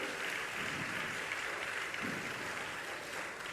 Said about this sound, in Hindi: बच्चों के उत्साह के लिए भी एक बार जोरदार तालियां बनती है